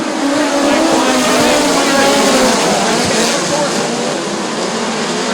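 Midget race cars accelerate at a race start at Bubba Raceway Park, engines roaring loudly together, a dense continuous snarl of revving motors filling the whole stretch.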